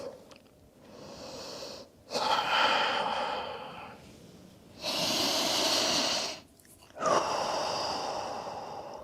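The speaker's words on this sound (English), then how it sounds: "Listen to the sound of your breath." Slow, deep breaths during a seated yoga forward fold: long airy inhales and exhales alternate in even cycles with short pauses, close and fairly soft, with no voice.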